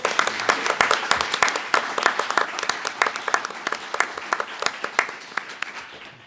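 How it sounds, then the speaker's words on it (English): An audience at an environmental justice task force meeting claps for a university elder in residence, a crisp, fairly close round of many hands with distinct individual claps, steady and then tapering near the end. "Please, a round of applause for Ramon Ramirez."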